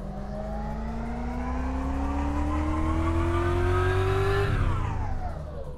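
A car engine revs on a dyno roller in Car Mechanic Simulator 2014, its pitch climbing steadily under load for several seconds, then falling away as the throttle is released.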